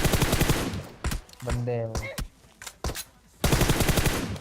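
Rapid automatic gunfire bursts in the mobile battle royale game PUBG Mobile, loud rattling volleys at the start and end with sparser shots between, under a voice talking.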